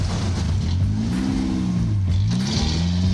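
A loud off-road buggy engine, registered as a 1969 VW Beetle and fitted with a 44mm Screaming Eagle Harley-Davidson carburetor, revs up and down in repeated swells, its pitch rising and falling over a constant rumbling idle, close by with no talking.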